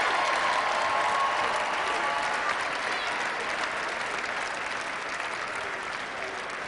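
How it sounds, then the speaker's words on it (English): Sustained crowd applause at a 2014 state championship game between St. Edward and Upper Arlington, loud and continuous at first and then easing off slightly toward the end. "Please applaud the championship efforts of the students on both teams"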